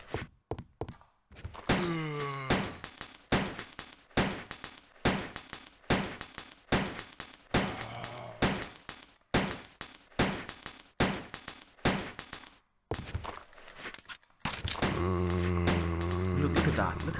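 Repeated gunshots from Biohazard 2 on nightmare mode fire in a rapid, regular volley for most of the stretch, with brief pauses and bursts of game effects in between, and a loud sustained sound at the end.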